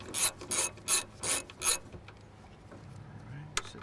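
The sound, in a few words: 10mm socket and ratchet breaking bolts free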